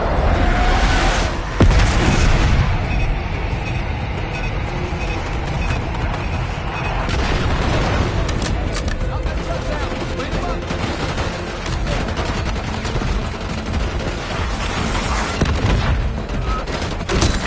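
Bombs dropped in an air strike in Call of Duty Black Ops burst in a loud, rumbling barrage with heavy booms and gunfire-like crackle, while voices speak over the battle.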